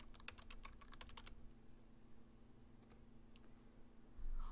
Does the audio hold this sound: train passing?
no